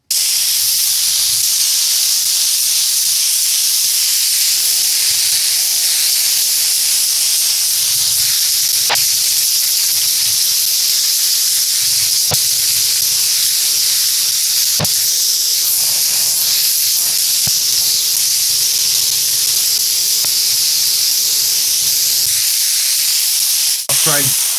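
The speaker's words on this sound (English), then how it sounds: "I'm going to spray it all with contact adhesive." Contact adhesive sprayed steadily from an aerosol can onto leather and a plastic trim panel, a continuous loud hiss running almost the whole time with a few brief clicks and pauses.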